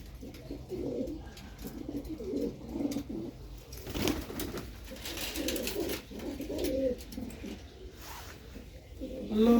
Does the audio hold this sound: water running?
no